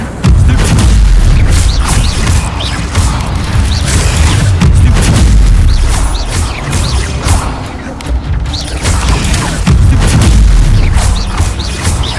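Fire spell effects cast in Hogwarts Legacy combat, a run of loud, booming blasts and crackling bursts that repeat densely across the clip amid ongoing battle noise.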